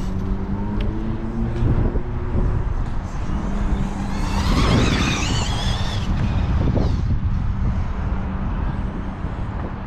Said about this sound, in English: Let's do a kind of high speed passes,